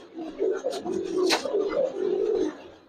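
A Silver Beji pigeon male coos near the listener in a series of low, rolling phrases with brief pauses between, a faint sharper rustle breaking in midway.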